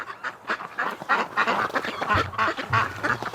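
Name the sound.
ducks quacking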